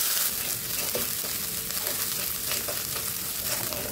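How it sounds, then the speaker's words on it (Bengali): Ginger garlic paste fries in a pan with a dense, loud, continuous sizzle, and faint stirring scrapes turn up now and then. The sizzle fills the whole stretch with no talk. "আদা রসুনের কাঁচা গন্ধ চলে যাওয়া পর্যন্ত ভেজে নিতে হবে"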